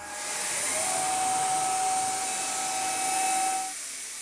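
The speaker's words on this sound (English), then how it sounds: "when the router is turned on, it automatically activates the dust collection" Dust collector vacuum switching on alongside a Genmitsu 6050 PROVerXL CNC router: a loud, steady, close whooshing roar with a thin whine, ramping up at the start and dropping off near the end.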